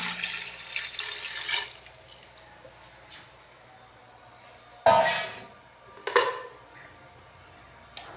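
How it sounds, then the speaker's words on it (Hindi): Water pours into a cooking pot in a few separate bursts, a splashing gush at the start, then two shorter pours after quiet pauses. "अब डालेंगे इसमें पानी।"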